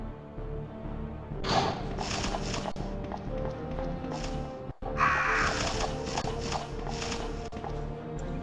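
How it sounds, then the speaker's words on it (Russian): Crows cawing in Resident Evil 2 during an Extreme Battle stage, several harsh caws in bursts over a steady game soundscape, with footstep-like thuds and a brief dropout partway through. "Так, здесь вороны."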